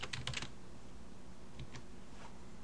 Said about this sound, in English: So I'm going to type in chamfer